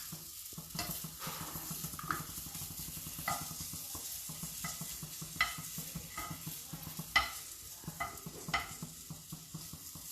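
Paneer chatpata frying in a pan, a quiet, even sizzle with repeated spatula scrapes and a few sharper clinks, close and without talk.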